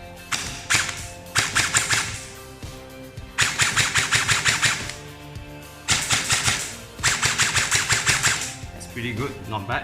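A War Interests LDT416 gel blaster fires in semi-auto on an 11.1 V battery, loud rapid bursts of snapping shots in several clusters with short pauses, while someone briefly speaks between volleys.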